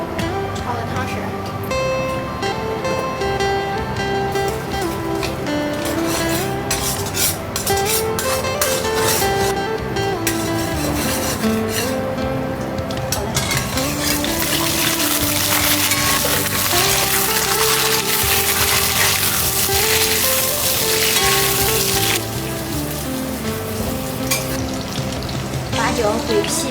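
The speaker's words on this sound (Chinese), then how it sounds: "下一步要炒汤汁儿。" Sauce is stir-fried in a pot for braised pork belly, a loud continuous sizzle and crackle with scraping stirs that swells into a brighter hiss midway.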